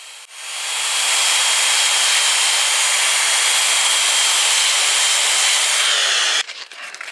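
A belt sander works a wooden kitchen table leaf, giving a loud, steady, broadband hiss that runs for about six seconds before cutting off abruptly into scattered clunks.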